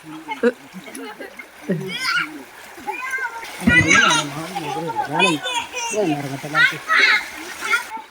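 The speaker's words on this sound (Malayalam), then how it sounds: "പിള്ളേര് കുളിക്കുന്നത് കണ്ടിട്ട് കൊതി കയറിയിട്ട് ദേണ്ടെ ആൻറ്റിയും വെള്ളത്തിലോട്ട് ഇറങ്ങുകയാണ്." Children bathe and splash in water, with intermittent close splashes mixed with lively kids' voices and chatter that run over most of the scene.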